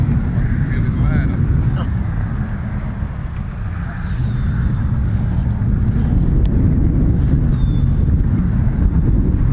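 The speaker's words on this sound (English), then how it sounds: "wind is picking up" Strong wind buffets the microphone outdoors on a fishing and birding outing by the water, a loud, steady roar through the whole stretch with no break.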